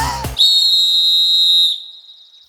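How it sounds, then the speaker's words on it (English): A new safety whistle on a registered boat blows one loud, shrill sustained blast lasting over a second before fading out, alone without talk. "And don't forget our new whistle!"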